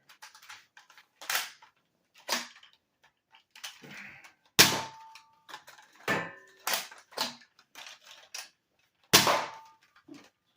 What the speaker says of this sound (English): How about I give you a firing demo of this blaster?